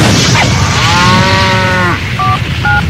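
A cow lets out one long, loud, drawn-out moo close by, followed by a couple of short telephone keypad tones, with no talking.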